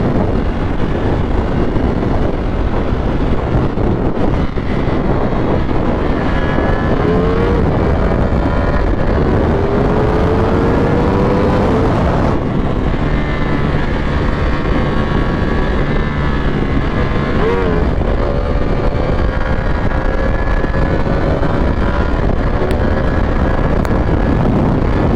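A Ducati Panigale V4 is ridden at speed, its engine note rising and falling through gear changes under a heavy roar of wind buffeting the microphone, loud and constant with no voices.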